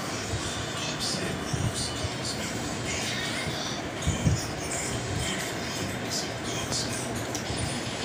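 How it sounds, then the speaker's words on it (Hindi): A toy train runs on a track indoors at home, giving a continuous whirring, rattling motor hum under children's voices and noisy room sound. "ट्रेन चला रहे हैं दोनों, ट्रेन चला रहे हैं।"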